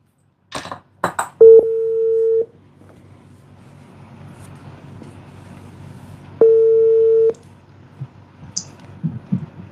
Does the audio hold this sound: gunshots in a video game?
no